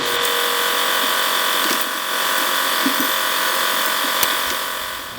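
A hand ratchet works loose a water pump bolt on a Jeep Grand Cherokee 4.7L V8, giving faint, close clicking under a steady background hum, with a few sharper ticks.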